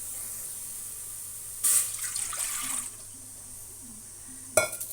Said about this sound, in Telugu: ఇప్పుడు స్టవ్ వెలిగించుకొని కొంచెం వాటర్ పోసుకుందాము.